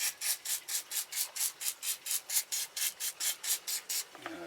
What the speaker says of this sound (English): I suppose if the sandpaper was a bit wetter, it would be even better